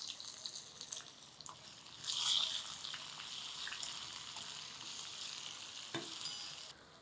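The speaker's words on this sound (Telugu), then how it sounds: "ఉల్లిపాయ ముక్కలు వేసేద్దాము." Onion pieces sizzle in hot tempering oil with asafoetida for an amaranth-leaf tamarind curry, a steady close hiss that swells briefly, with occasional stirring clicks and no talk.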